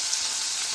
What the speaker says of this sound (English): You really want them to sear.